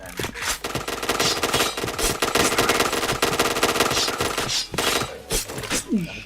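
Rapid automatic gunfire bursts in a shooter video game, loud and dense bursts of machine-gun fire with brief pauses, faint voices of players talking underneath.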